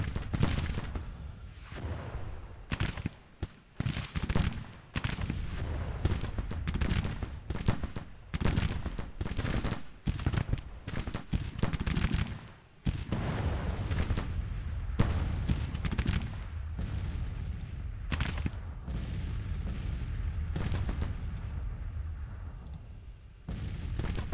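Artillery and musket fire from the Civil War strategy game Grand Tactician: The Civil War, a dense, sustained battle din of repeated booms and crackling volleys, loud and continuous throughout.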